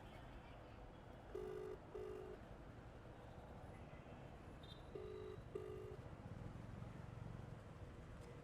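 A phone call rings on speakerphone as two faint double-pulsed ringback tones a few seconds apart, heard quietly over a soft background hiss.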